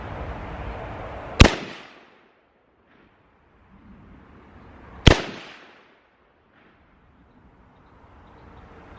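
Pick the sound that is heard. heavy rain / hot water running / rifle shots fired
rifle shots fired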